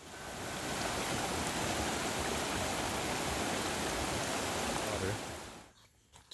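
Continuous rushing of flowing water in a desert wash after monsoon rain, a steady broad hiss close by that holds for several seconds, then fades to near silence.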